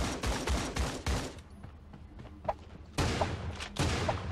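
Shotgun fire in the PC shooter game Creative Destruction, a string of sharp blasts in quick succession, a quieter gap with a few isolated hits, then another dense burst, all loud and close with no talk.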